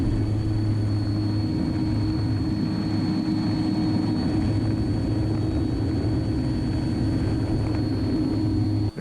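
A battery-powered light aircraft climbs at full throttle over a winter lake, giving a steady, loud, droning engine and propeller hum with a constant tone and no talk.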